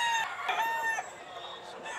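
A gamefowl rooster at a game farm crows loudly and close by, a long harmonic call with a second crow overlapping, and no talking.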